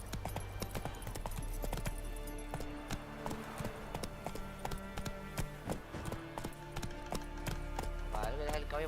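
A horse's hooves clip-clop in a steady, rhythmic walk in The Witcher 3 video game. The hoofbeats sit at moderate loudness under game music and ambience, and a person speaks over them.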